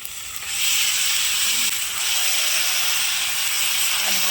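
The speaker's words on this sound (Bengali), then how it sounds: "এই যে মাংসটা আমি ঢেলে দিচ্ছি" Goat meat poured into a hot pan with onions and red chilli paste erupts into a loud, steady hissing sizzle that starts after a brief moment and holds throughout, with no talking.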